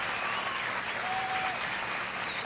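A fairly quiet, even patter of crowd applause for kids at a junior livestock showcase during a county fair and rodeo, steady and distant-sounding for a short moment.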